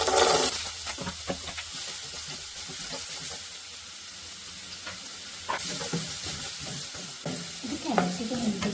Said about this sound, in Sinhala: කැරට් ටික හොඳට fry කරගන්නවා.